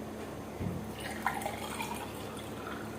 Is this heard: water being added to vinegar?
yes